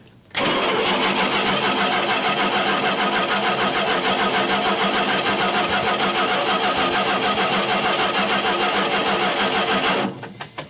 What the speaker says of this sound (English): Go ahead and spin it over.